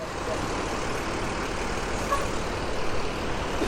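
New PO ANS bus rumbling as it is maneuvered into a parking spot, a low steady diesel engine hum at moderate distance with faint background noise and no distinct events.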